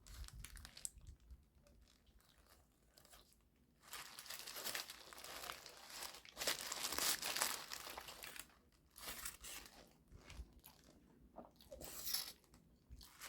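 A Taco Bell beefy 5-layer burrito is unwrapped and bitten: close crinkling of paper wrapping in bursts, followed by crisp tearing, biting and chewing sounds, with no talking.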